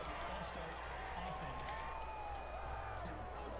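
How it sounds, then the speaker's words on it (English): Steady stadium crowd roar in Madden NFL 21 as the Rams host the Bears, a constant loud wash of noise with scattered cheers and whoops and no pauses. "The crowd's not doing that O-line any favors."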